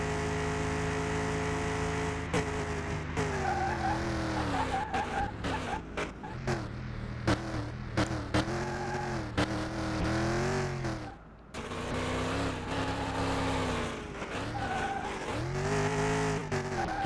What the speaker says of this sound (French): Un petit dérapage